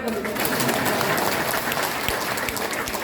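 An audience at a classical Balinese arja theatre performance claps in a dense, continuous patter. The applause holds steady throughout, with voices and crowd noise mixed in.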